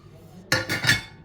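Vegetables stirred in a metal cooking pot, giving a few close clinking scrapes of a utensil against the pot after a quiet start, with no talk.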